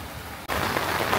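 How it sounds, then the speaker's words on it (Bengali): Heavy rain pours outdoors at the Bangladesh Air Force Museum as a steady, loud, close hiss that drops out for an instant, then returns just as dense. "এদিকে প্রচন্ড বৃষ্টি পড়তেছে"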